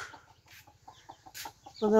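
A hen clucks in short repeated bursts close by, brooding over chicks hatched from a clutch of older eggs, of which only five hatched; faint chick peeps fill the pauses before a louder squawk at the end.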